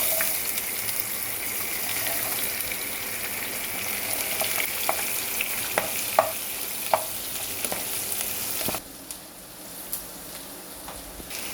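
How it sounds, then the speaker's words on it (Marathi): Chopped onion sizzles and crackles steadily in hot oil in a pan for a Maharashtrian cauliflower curry, a loud broadband hiss with occasional sharp pops, dropping to a quieter simmer near the end. "हे बघा तळतळते."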